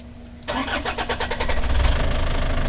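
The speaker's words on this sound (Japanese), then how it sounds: "じゃあこの状態でエンジンかけてみます" A used camper van with a TDI engine and its tuning box disconnected cranks and fires after a quiet pause, then settles into a close, loud idle with the rumble building.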